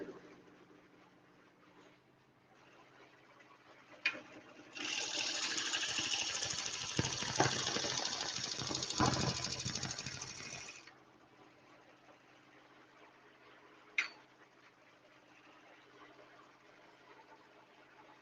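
Wood lathe spinning a long post as a chisel cuts along it, a loud sustained whirring roar lasting several seconds that rises abruptly and cuts off, bracketed by quieter room tone and a couple of sharp knocks.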